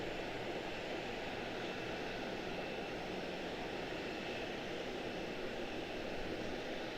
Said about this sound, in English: Looks like we have a go-around, first go-around of the day.